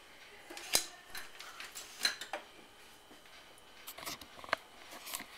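Metal utensil clinking and scraping against a casserole pot while vegetables are stirred, irregular light clatters with a few sharper knocks, no talking.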